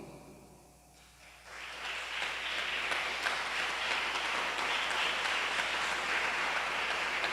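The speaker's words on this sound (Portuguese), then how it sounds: "Por favor, durante pelo menos 5 segundos, comunique um aplauso de gratidão a Deus." A church congregation applauds together after the pastor's prompt, a dense, steady wash of clapping that swells in about a second in and holds at an even, full level throughout.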